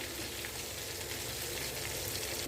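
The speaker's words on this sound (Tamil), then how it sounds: "இதை நல்லா வந்து பொறிச்சு எடுக்கலாம் நல்லா முறு முறுன்னு இந்த ஓசை அடங்கட்டும்" Taro root chips deep-frying in hot oil, a steady dense sizzle and crackle that holds evenly throughout, close and moderately loud with no voices.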